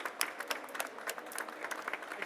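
An audience at a startup pitch event applauds an award presentation, brisk steady clapping with distinct individual claps popping out of a moderate wash.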